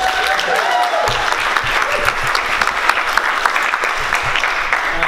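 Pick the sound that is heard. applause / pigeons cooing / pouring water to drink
applause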